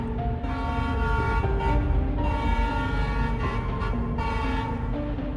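A speeding train rolls along steadily with a continuous loud rumble while its horn toots in sustained, shifting tones throughout.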